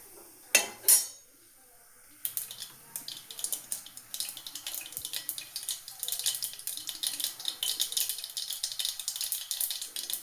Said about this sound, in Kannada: ಸಾಸಿವೆ ಚೆನ್ನಾಗಿ ಸೌಂಡ್ ಬರಬೇಕು